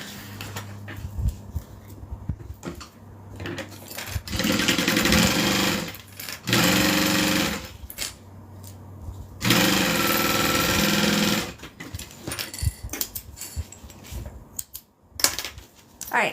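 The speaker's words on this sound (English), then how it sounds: "lay all 3 layers together and sew them all at one time" A sewing machine runs in three sustained bursts of stitching through three stacked layers of an Aries bag, with quiet handling sounds between the runs and no talk.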